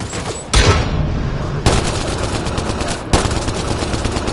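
Enemy gunfire in the video game Mass Effect Andromeda: dense, continuous bursts of rapid shots crackle throughout, punctuated by three sharper, louder volleys, with no talking.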